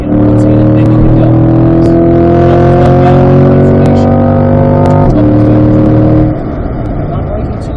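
A Corvette C8 race car on a track accelerates hard out of a corner, its engine note loud and close and rising through the gears, with a shift near five seconds and the roar easing slightly toward the end.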